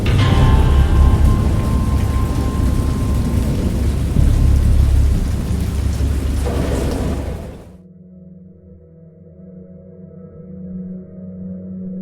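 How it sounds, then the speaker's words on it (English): Heavy rain with rolling thunder from the horror adventure game Dagon, a loud, dense downpour that cuts off abruptly near the end, leaving only a low quiet drone behind. "I heard pearls of thunder and other tones which nature utters only in her wildest moods"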